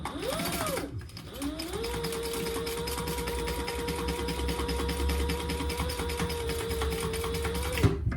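A sewing machine stitches over the card slots of a fabric phone crossbody bag, starting with a short whir, pausing, then running a long even burst of rapid needle strokes before stopping.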